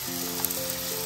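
Onion and tomato sizzle steadily in hot oil while being fried for a beef biryani, a close, continuous frying hiss with no voices.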